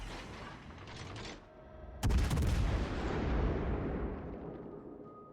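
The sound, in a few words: ship guns firing in video game World of Warships Legends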